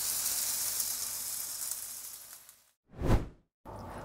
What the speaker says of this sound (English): Make sure that your tomatoes are even and sizzling.